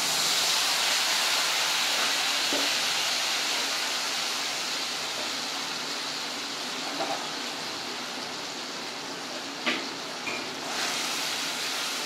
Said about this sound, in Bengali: ওই পেস্টটা আমি তেলের মধ্যে দিয়ে দেব।